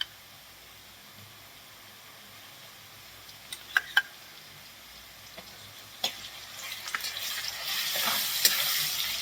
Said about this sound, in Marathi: चांगली भाजून घ्यायची मिरचीची पेस्ट.